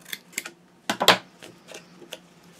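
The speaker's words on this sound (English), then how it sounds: "Where the score lines meet and make those squares, we're going to cut those out." Paper is cut at the points where score lines meet, producing a series of quiet, crisp snips and clicks at an uneven pace, with one louder cluster near the middle.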